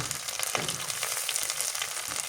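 Turmeric and chili powder hit hot oil in a pan, giving a close, soft continuous sizzle with light crackles and stirring.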